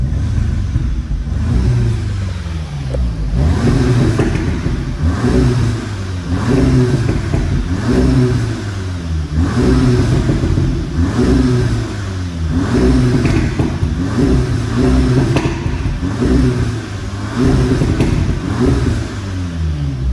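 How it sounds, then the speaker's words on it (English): An Audi S3 Stronic 310 Quattro Black Edition exhaust in dynamic mode revs repeatedly, rising and falling roughly every couple of seconds, loud and close with crackling overrun between blips and no talking. "You can hear that there's a lot more going on with the sound system of the exhaust."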